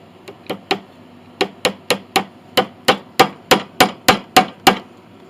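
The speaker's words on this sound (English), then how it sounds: "Hammer them in" Quick, sharp metal hammer taps driving bridge pins into a Mason & Hamlin piano bridge, in short groups, about sixteen strikes in a steady rhythm, close and clear with no talking.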